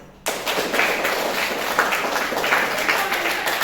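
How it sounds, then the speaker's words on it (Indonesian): A class in a real teaching session on coding and artificial intelligence breaks into applause after a quiet start, many hands clapping together at close range with a few thumps mixed in. "Tepuk tangan dulu."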